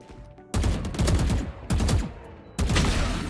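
Three heavy bursts of video game gunfire in an esports shooter match, each a sharp loud onset that rings and decays, spaced about a second apart over low background hum.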